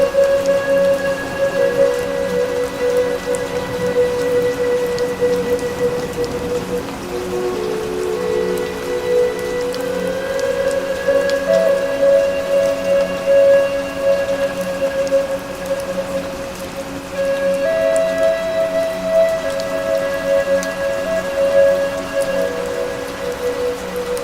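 Heavy rain falling in the Western Ghats rainforest, a dense steady patter on surfaces with tonal insect or bird calls layered over it, continuous and without talk.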